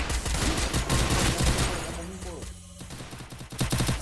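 Gunfire in the mobile battle-royale game Free Fire: rapid bursts of automatic shots crackle loudly, then a brief lull, then more sharp shots, with a player talking over the action.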